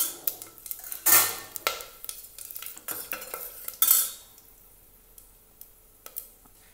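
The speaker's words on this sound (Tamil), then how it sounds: "இப்போ இதெல்லாம் போட்டு எண்ணெயில் தாளிக்கிறோங்க." Metal utensil stirring and scraping spices frying in oil in a pan, with a couple of sharper clanks and a faint sizzle underneath.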